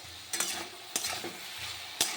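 Ridge gourd pieces fry in a pan with a soft, steady sizzle, broken by three sharp spatula scrapes and clinks against the metal, close and quiet, with no talking.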